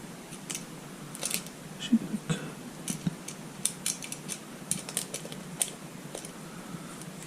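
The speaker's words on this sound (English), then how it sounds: "got to wrap this in some electrical tape" Electrical tape is wrapped around a wire while building a workbench with outlets, producing soft crackling, sticky peeling sounds and small rustles in irregular bursts, fairly quiet and close.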